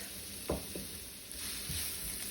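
Chopped onion and garlic sauté in a pan for an oxtail stew, giving a faint, steady sizzle with a few soft clicks of the pan.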